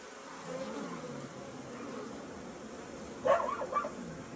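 Honeybees mob a wasp inside a ball of bees at a hobbyist hive, giving a soft continuous buzzing hum with a brief louder burst near the end.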